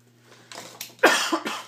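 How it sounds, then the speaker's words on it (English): A couple of harsh coughs close to the mic, preceded by some quiet shuffling and throat noise, with a steady low hum underneath. "Excuse the cough here."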